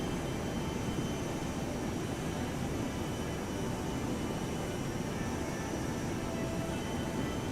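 Boeing 737 twin jet engines in the X-Plane 12 flight simulator throttle back, giving a steady, broadband roar and hiss with no talking, unchanging and moderately loud throughout.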